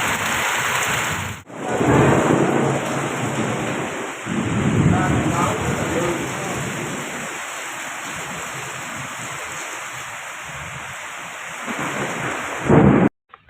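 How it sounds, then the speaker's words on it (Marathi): Heavy pre-monsoon rain pours down in Konkan with rolling thunder, a loud, dense hiss with deep rumbles that swell and fade throughout. "असं पाऊस पडता दरवर्षी पण सध्या पडता तो भरपूर अगदी जून महिना लागल्यासारखंच पडता"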